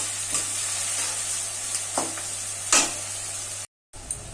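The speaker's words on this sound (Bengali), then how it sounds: "পেঁয়াজটা দিয়ে ভালো করে ভাজা ভাজা করে নেব" Onions with a little salt frying in a pan, a quiet steady sizzle broken by a few spatula stirs and scrapes, close and without talk, cutting out briefly near the end.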